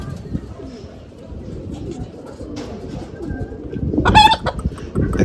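Racing pigeons cooing at a loft, low soft coos running throughout with a louder burst of bird calls near the end, against steady background noise.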